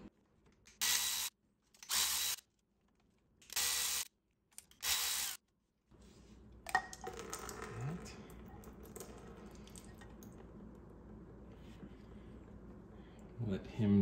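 A power tool spins off four Torx bolts from the thermostat on a Porsche Cayman S 987 engine, four distinct loud whirring bursts with pauses, then quieter mechanical handling noises.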